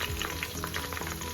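Chicken sizzles steadily in a pan for Tunisian couscous, a close, even crackle of frying with small pops throughout and no talk.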